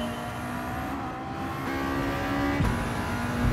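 A tuned Mitsubishi Lancer Evo IX race car engine in Gran Turismo 7 drones steadily at high revs, with abrupt pitch drops marking gear shifts, loud and continuous with no talking.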